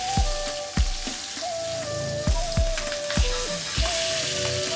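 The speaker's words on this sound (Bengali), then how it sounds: "লেজগুলোকে মানে ইলিশ মাছের লেজগুলোকে এপিট ওপিট ভেজে নিয়ে একটু ঠান্ডা হতে দিই" Hilsa fish tails fry on both sides in oil with a constant crackling sizzle, broken by repeated sharp taps and pops and a steady tonal hum behind.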